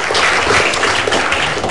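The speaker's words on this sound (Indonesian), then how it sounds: "Tepuk tangan untuk Dalang yang luar biasa." Studio audience applause at an Indonesia Lawyers Club talk show taping, a dense, steady wash of clapping filling the room, loud and close for a couple of seconds with no voices on top.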